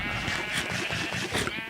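Several sheep bleat on a crowded Minecraft sheep farm, overlapping repeated bleats in a busy chorus that carries throughout without any speech.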